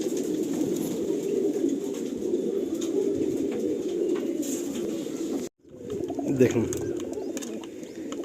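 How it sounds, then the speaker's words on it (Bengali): Black Magnet breed pigeons coo in a loft, giving a continuous low murmuring under a voice, with a brief break partway through. "এই হচ্ছে এটা ম্যাগনেট পায়রা।"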